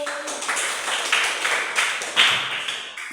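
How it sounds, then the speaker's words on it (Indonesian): A classroom group applauds Group 1, with scattered hand claps blending into a brief, uneven round of moderate clapping. "tepuk tangan untuk kelompok 1"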